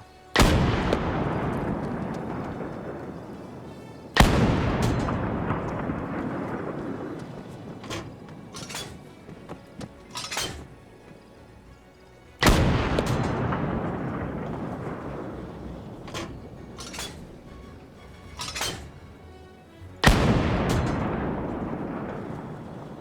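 Heavy artillery in a WW2 combat game fires four deep booming shells at roughly even intervals, each blast rolling out into a long fading rumble, with fainter sharp reports between.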